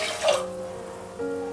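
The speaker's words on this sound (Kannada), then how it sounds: "3 ಗ್ಲಾಸ್ ನೀರು ಹಾಕ್ಕೊಳ್ತಾ ಇದ್ದೀನಿ." Water poured from a glass into moong dal and rice in a pot for khara pongal, a short close splash that settles into a steady trickle with a ringing tone.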